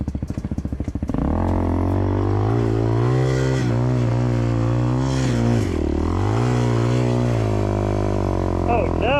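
A budget 250cc fuel-injected dirt bike from Walmart revving hard while being ridden, a loud close engine drone that rises and falls in pitch through gear changes after a rough clattering idle at the start.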